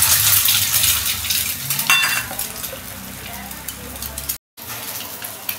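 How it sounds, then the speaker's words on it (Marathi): Beaten egg poured straight into hot oil for an egg curry, a loud close sizzle that flares on contact and then settles into steady frying, broken by a brief gap near the end. "डायरेक्ट आपण फोडल्याच्या नंतर डायरेक्ट तेलात ओतायचं आहे"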